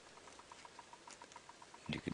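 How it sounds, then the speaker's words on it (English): A bearded woodpecker taps faintly in the background at dawn on a wildlife safari drive, a quick, even series of light knocks, followed by a brief louder rustle near the end. "You can hear a bearded woodpecker in the background."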